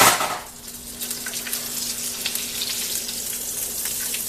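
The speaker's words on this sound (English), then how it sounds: "when you're frying it on the skillet" Steady crackling sizzle of breaded parmesan chicken frying in hot oil in a skillet, continuous and close, with a faint hum underneath and no voices.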